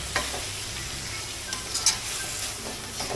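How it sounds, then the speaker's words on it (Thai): Pork chu chee curry with kaffir lime leaves stir-fried in a pan, a soft steady sizzle with a few scraping stirs, close and fairly quiet. "แล้วก็ผัดเข้าไปให้เข้ากัน"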